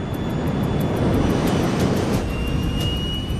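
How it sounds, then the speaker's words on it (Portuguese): A Spanair MD-82 jet airliner accelerating down the runway for takeoff, heard as a loud, steady broadband engine roar with a thin high whine running through it. "o MD-82 começa a acelerar na pista"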